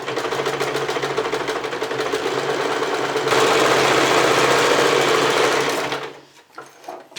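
A sewing machine runs steadily, sewing a very small zigzag stitch along fabric for a thermal therapy cushion, with a dense continuous whir that stops near the end, leaving a few faint knocks.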